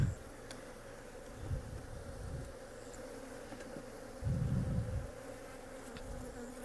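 Honeybees swarm around an open hive on a farm, a dense steady buzz with individual bees swelling louder as they pass close, alone without any talking.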